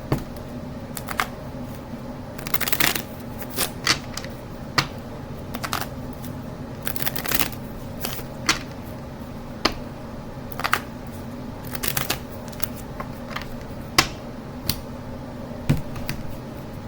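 A deck of tarot cards being shuffled close up, with irregular soft riffles and sharp card slaps spread over about seventeen seconds.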